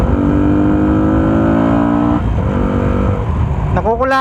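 A Yamaha Sniper 150 motorcycle with a stock engine and a racing ECU is held at a loud, high, steady rev. It drops briefly, then blips up sharply again in quick rising revs, close to the listener.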